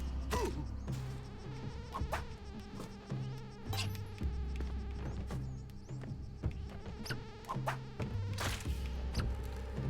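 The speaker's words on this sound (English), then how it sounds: "That's cool that mosquito, like, tried to sabotage me" A mosquito buzzes in the Spelunky 2 video game, a continuous close insect drone layered with tonal game sounds and sharp effect hits.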